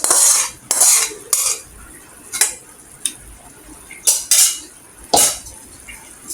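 Cooked chicken stirred into biryani rice in a metal pot with a spoon, loud close scraping strokes and clinks in an irregular rhythm, with faint sizzling between them.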